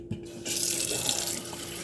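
Kitchen faucet running into a cup, a short click then a steady, close hiss of flowing water lasting under two seconds, with no speech.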